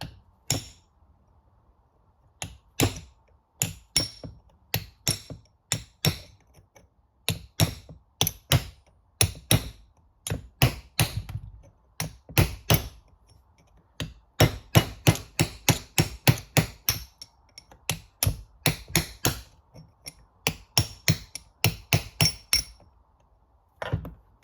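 A hammer drives a chisel to knock ball joints out of KAD aluminium alloy hubs: sharp metallic strikes in irregular rapid bursts, loud and close, with short pauses between volleys and no talking.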